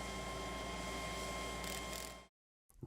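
A hose clamp is tightened onto an air seeder hose, a steady mechanical ratcheting that runs continuously and close, then stops abruptly before a short faint rustle.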